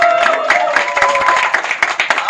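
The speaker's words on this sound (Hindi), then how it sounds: "जोरदार तालियां।" Loud, dense applause from a crowd at the trailer launch event for the film Double XL, sustained for a couple of seconds with scattered sharper claps and no speech over it.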